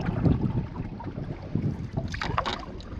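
Gusty wind buffets a lake during a solo canoe trip in the Boundary Waters, a close rumbling roar with water lapping and a brief brighter splash near the end, no voices.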